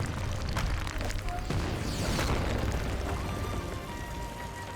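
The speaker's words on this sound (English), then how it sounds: "boulder bash can be used to quickly deal with rocks that have become an obstacle, obstruction, or even a weapon used by an opposing earthbender" Rocks smashing from the earthbending boulder bash in Avatar: The Last Airbender, a dense crumbling roar with sharp cracks and a heavy thud, loud and close, fading toward the end.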